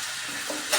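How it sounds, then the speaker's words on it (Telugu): Vermicelli tipped into a hot pan for semiya pulihora gives a brief, steady close-up sizzle that swells slightly at the end. "ఇప్పుడు ఈ సేమియాని దీనిలో వేసేస్తున్నాను"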